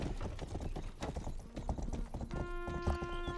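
A horse in the medieval video game Rustler clip-clops at a steady gallop, quick hoofbeats repeating close by under game music, followed by a sustained tonal chime.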